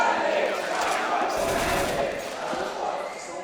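Crowd in an esports arena at a Counter-Strike final between Na'Vi and EnVyUs roaring and chanting steadily, a dense wall of voices with thumps, heard under a caster's commentary.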